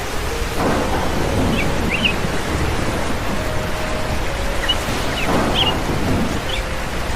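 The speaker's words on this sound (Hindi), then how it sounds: "अब पानी की बूंदें पंख पे चोट की तरह पड़ती है" Rain falls steadily in a cartoon as a dense, even hiss, with faint rumbles and a few soft tonal chirps mixed in the background.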